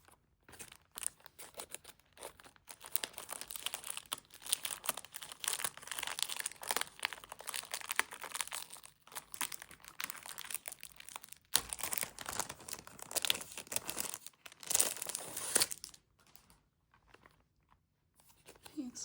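Double plastic wrapping peeled and crinkled off a Japanese album, sustained crackling and rustling close to the mic with short pauses, ending in near quiet.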